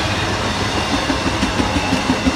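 Long freight train rolling past, heavy steady rumble with a regular clickety-clack of wheels over rail joints, close and continuous with no talk.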